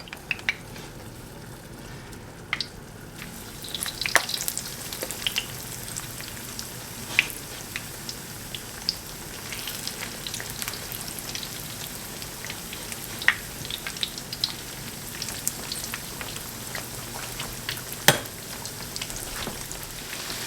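Panko-crusted pork fries in a pan beside a simmering plum sauce, a continuous low sizzle with scattered sharp pops and spits, close and moderately quiet, no talking.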